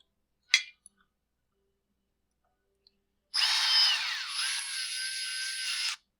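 A power driver snugs down a block-off plate on a Husqvarna 562XP Mark II chainsaw, with a single light click first and then a steady high whir lasting about three seconds before it stops.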